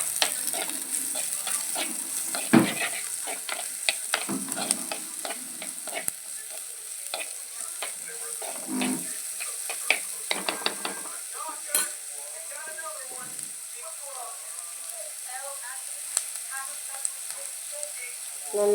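Sliced onions sizzling in oil in a pan while a spoon stirs them, frequent scraping and clinking strokes over a constant crackling fry, close-up and moderately loud, with no speech.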